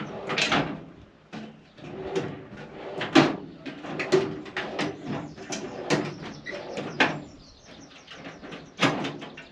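Tool drawers in a Mercedes Sprinter 163 work van fitted out for a solar engineer slide and bang shut, giving a run of sharp, close knocks and clacks at irregular intervals with no one talking.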